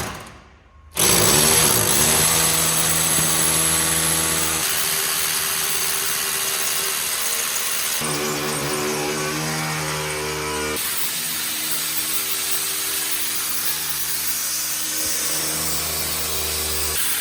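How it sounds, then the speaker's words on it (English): An SDS drill bores through concrete in a workshop, a loud continuous hammering whine that starts abruptly and runs steadily for over fifteen seconds with slight shifts in pitch and load. "this side we're going to SDS drill through the concrete"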